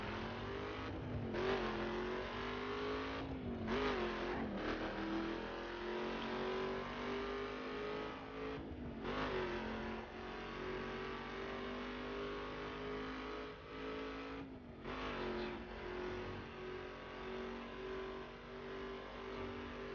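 In the racing game The Crew, a car engine drones and revs continuously while the car drifts, pitch rising and dipping in waves with a few sharp gear-change drops.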